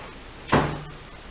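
Drawer of a Harbor Freight tool chest sliding open, a single short scrape with a faint metallic ring afterward, close and quiet.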